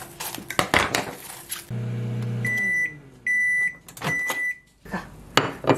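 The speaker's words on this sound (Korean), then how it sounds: "저는 볶지 않고 전자레인지에 살짝만 돌려서" A microwave oven heats fried tofu pouches: dishes clatter first, then a low steady hum runs with several bright electronic beeps between short bursts of clanking, all close and loud, with no talking.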